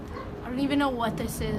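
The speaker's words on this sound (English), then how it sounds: "my dogs are barking inside" Pet dogs barking and yipping inside a house on a windy, hot day, short yelps and whimpers mixed in, heard under someone talking nearby.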